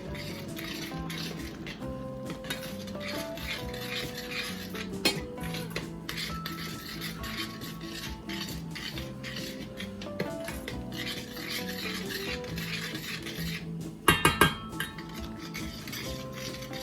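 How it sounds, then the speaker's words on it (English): A spoon stirs pizza soup in a pot with soft, continuous scraping and rubbing, closing in a brief burst of sharper metallic clinks. "Give it another stir."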